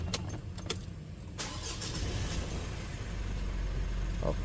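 A Mitsubishi car engine cranks briefly with a few clicks after an EGR valve cleaning, then catches and settles into a steady low rumble close by.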